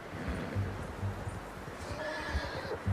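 A horse in Red Dead Redemption 2 whinnies and snorts nearby over continuous hoofbeats, with a drawn-out neigh rising in the latter half.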